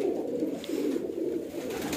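A sick breeder pigeon gives a soft, continuous throaty cooing, close and steady, with no other sounds.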